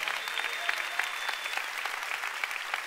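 A church congregation claps together in a steady, dense burst of applause, moderately loud and sustained throughout, with no voices rising above it.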